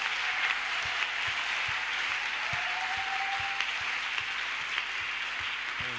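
A church congregation at a night ascension service applauding in a dense, sustained wash of clapping that fills the room, with a steady low beat underneath and no pause.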